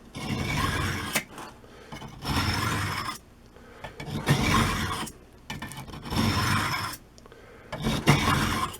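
A serrated knife blade is drawn through a sharpener in slow, regular rasping strokes, about six passes with brief pauses between them, close and moderately quiet.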